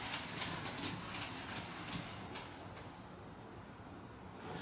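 An On30 scale model train locomotive reverses slowly into its shed on a layout, giving a steady low rumble with repeated light clicks from the wheels on the track, close and unbroken by talk.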